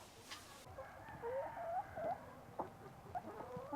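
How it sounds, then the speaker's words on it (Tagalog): Rhode Island chickens cluck softly on a farm, several short murmuring calls and a few sharper clucks scattered over a quiet background. "Ang manok."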